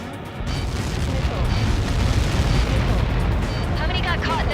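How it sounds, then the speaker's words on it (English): A massive explosion from a missile impact in the combat flight game Ace Combat 7: Skies Unknown, on the Lighthouse mission. It bursts in loud and close, then sustains as a dense, rumbling roar for several seconds. "How many got caught in that explosion?"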